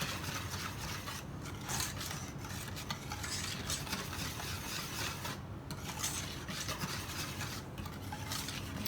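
Lemon bar batter being stirred in a bowl, a steady scraping and swishing that runs continuously and close up, with no voices.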